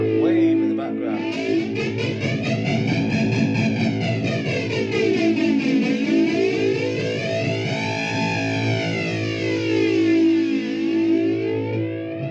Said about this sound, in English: And it's a sort of a whooshing sound